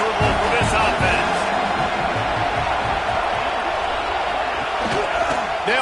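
Stadium crowd at a Penn State vs Nebraska football game roars as a steady, loud wash of noise, with a commentator speaking over it throughout.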